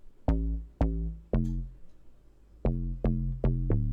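An amapiano tube bass from Hypersonic layered with a log drum hits in deep, punchy notes, three spaced strikes followed by a tighter run of four, each decaying quickly.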